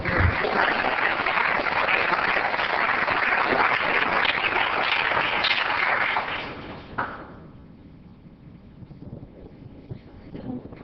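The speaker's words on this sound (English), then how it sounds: "Let's help Tracy celebrate with a round of applause." Audience applause fills a city council meeting hall during a service awards ceremony, a steady dense clapping that lasts about six seconds, then fades out with a few stray claps and quiet room noise.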